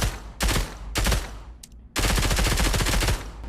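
Bursts of SMG fire in the Pavlov Shack video game, one short burst then a longer one, each a loud, dense rattle with a brief gap in between and a sustained final volley.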